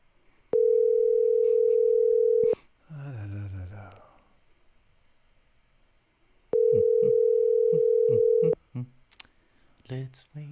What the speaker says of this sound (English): Let's wait for the phone to answer the call